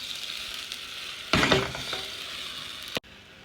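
An onion and oil mixture poured into a hot wok for Korean-style fried chicken, a sudden loud burst of sizzling that settles into a softer fry before cutting off abruptly; no talking.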